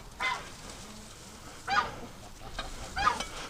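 A goose near its nest full of eggs gives three short honking calls spaced about a second and a half apart, fairly close and moderately loud over quiet outdoor background.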